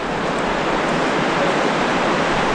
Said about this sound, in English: now crossing this, again the water current is very fast